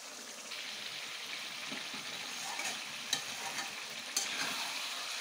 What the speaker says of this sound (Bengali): মশলার ভিতরে আর একটু কষালেই ভালো হয়